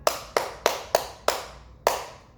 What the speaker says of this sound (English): Let's clap 4 more times.